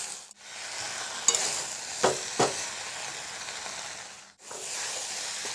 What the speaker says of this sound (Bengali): খুব ভালো করে সব কিছুর সাথে এখানে নাড়িয়ে নিচ্ছি, যাতে মশলার সাথে সবজিগুলো খুব ভালো করে ভাজা ভাজা হয়ে যায়